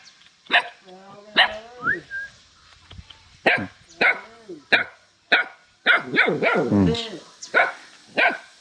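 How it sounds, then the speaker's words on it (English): Several dogs bark and yip nearby in irregular bursts, some barks rising into whiny whimpers, with a voice speaking briefly among them. "The dogs who bark like this and keep wagging their tail"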